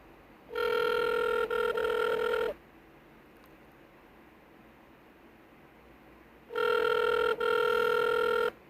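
A telephone rings in two long double-pulsed bursts, loud and clear, separated by several seconds of quiet hiss before the call goes through to voicemail.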